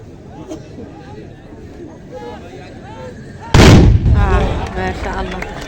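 Tbourida horsemen at a regional competition in Chemaia, Safi region, fire gunpowder rifles in a single loud, near-simultaneous volley, a sharp close blast that booms and rings out over crowd murmur and talk.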